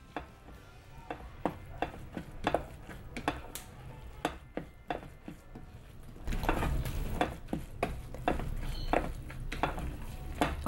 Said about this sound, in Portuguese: Agora eu vou mexer.